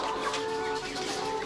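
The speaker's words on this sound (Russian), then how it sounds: "Сидят наши курочки, яички нам несут, да?" Several hens cluck and murmur softly at close range, a busy, continuous chorus of low clucks with no talking.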